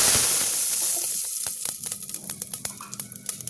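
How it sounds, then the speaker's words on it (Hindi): Cumin seeds hiss and crackle in very hot oil, a steady bright sizzle with scattered sharp pops, close and alone without any talk. "जीरा डाल दिया, तेल ज़्यादा गर्म किया है जिससे इसकी झाड़ न रह जाए"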